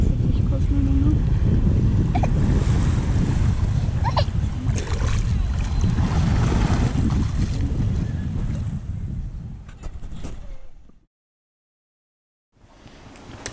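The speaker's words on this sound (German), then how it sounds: "Das war eine große Welle." Big ocean wave at Patong Beach, Phuket, a loud rushing roar of surf mixed with heavy wind buffeting, continuous for about ten seconds before cutting to silence, then resuming briefly.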